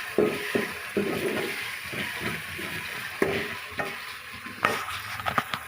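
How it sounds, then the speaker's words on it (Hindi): Potatoes and spices stirred and frying in a pan while browning for Pakistani-style aloo matar curry; a steady soft sizzle runs underneath repeated scraping strokes of the spoon, close and moderate, with no voices. "अब इसको थोड़ी देर ब्राउन होने दूँगी।"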